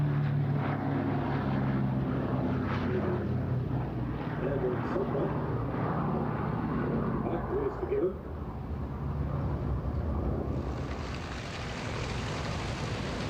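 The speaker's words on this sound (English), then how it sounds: "Flying Legends saw two B-17 Flying Fortresses in the same airspace" Two B-17 Flying Fortress bombers, Sally B and Pink Lady, fly at a British airshow. Their piston engines and propellers drone in a loud, continuous rumble while a voice talks over it.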